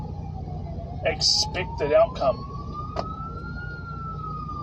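A St. John's Ambulance siren passes in the distance, a faint rising wail beneath someone talking.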